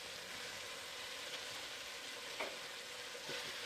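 Aoudad sheep meat browning in hot oil gives a steady, faint crackling sizzle with a couple of soft utensil taps near the end.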